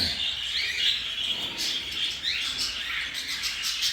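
Many cockatiels, including white-face pearls, chirp and squawk together in an aviary, a dense, continuous chatter of overlapping high calls close by.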